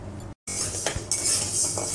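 Biri dal lentils being stirred and fried in a pan, with metal spoon scrapes and clinks against the cookware over a steady frying hiss, and a brief gap of silence early on.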